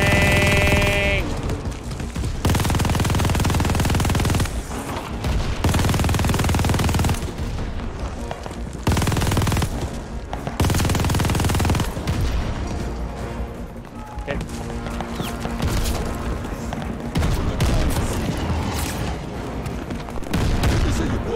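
A heavy machine gun fires in Call of Duty Vanguard, long loud sustained bursts separated by short pauses, with booming impacts and battle noise between the strings of fire.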